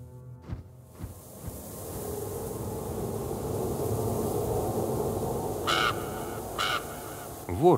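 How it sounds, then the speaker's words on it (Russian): In the Black Book video game, a raven gives a few distant caws over a forest ambience, then two louder caws sound closer near the end, with a rustle at the close. "Ворон является словно ниоткуда."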